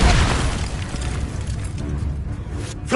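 Spell explosion from the Expulso charm in Hogwarts Legacy, a loud booming blast at the start that rumbles and decays over a few seconds, with a sharper burst near the end.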